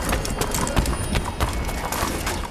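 Horse hooves clip-clopping in the Assassin's Creed 3 video game: a quick, steady series of close, crisp hoof strikes repeating for a few seconds, with a faint whinny possible underneath.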